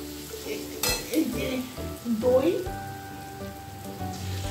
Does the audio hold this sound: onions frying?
yes